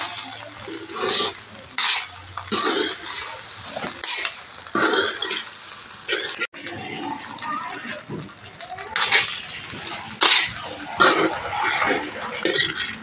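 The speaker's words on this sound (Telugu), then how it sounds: "ఎగ్ ఫ్రైడ్ రైస్ కలిపేసుకున్నాం కదండి" A spatula or spoon stirs and scrapes egg fried rice around a pan, with irregular metallic clinks and a soft sizzle throughout, close and fairly loud.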